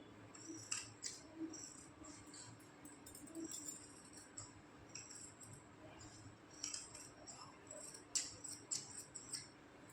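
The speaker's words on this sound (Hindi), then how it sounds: "अब जो हमने यहाँ पर बॉक्स बनाया था, हमें वहीं पर इसकी आर्मोल काट देनी है, बाजू।" Scissors cut through blouse fabric around the armhole, giving faint repeated snipping and blade clicks in short irregular bursts over a quiet background, with no talking.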